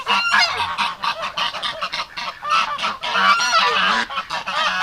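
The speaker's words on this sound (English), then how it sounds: "now the female geese are picking on the ducks mating" Female geese honk repeatedly and loudly at close range, a dense run of harsh overlapping calls with brief gaps while ducks mate nearby.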